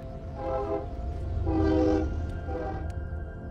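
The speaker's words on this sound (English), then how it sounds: "Sorry, there's a train here." A train passes nearby and sounds its horn in three long blasts, with rumbling wheels and wagons underneath. The sound is loud and sustained and stands alone without talk.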